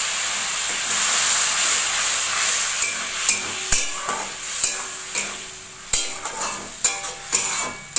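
Water poured into a pan of frying ground ginger, garlic and onion spice paste, giving a loud, steady hiss and sizzle broken by sharp spits and pops, with no voices.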